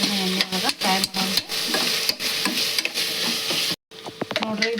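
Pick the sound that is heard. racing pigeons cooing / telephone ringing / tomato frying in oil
tomato frying in oil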